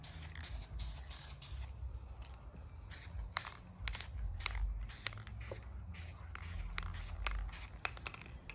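SEM paint sprayed from an aerosol can onto plastic car interior trim, a close steady hiss in long bursts broken by short pauses, with no talk.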